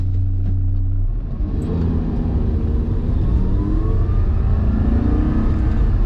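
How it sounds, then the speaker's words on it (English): A car accelerates hard, its engine note rising steadily as it revs through quick paddle-shifted gear changes, loud and close throughout with no talking. "And then second gear, third gear, and then your downshifts are on the other side."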